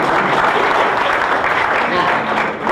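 A church congregation applauding during a sermon, a continuous dense roar of clapping that holds steady and loud throughout, with voices mixed in.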